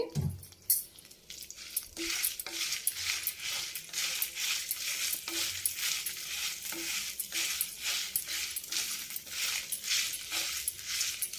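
Red chillies frying in a little oil for coconut chili powder, with a soft sizzle under steady, rhythmic stirring strokes, fairly quiet and close, with no speech.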